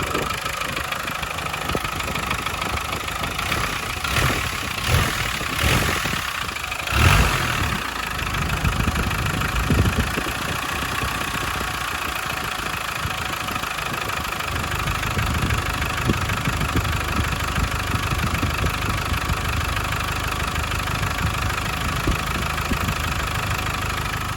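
A Land Rover Discovery 200TDI diesel engine idles steadily after a fuel injection pump repair, with a low, rough rumble and some knocking, close by and running on its own without talk.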